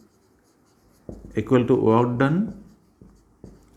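Marker or chalk strokes on a board during a physics lecture on electric potential and work, a few short taps and scrapes, with someone speaking in Hindi over them.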